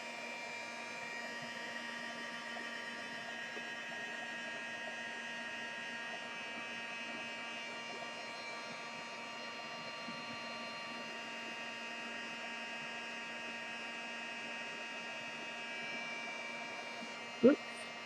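A heat gun drying bling craft embellishments, giving a steady, loud whooshing blower roar with a tonal hum that runs unbroken throughout, ending with a brief click near the end.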